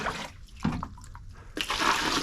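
Water poured from a container into potting soil in a 5-gallon bucket, a close splashing rush with a short pause before a steadier, louder pour.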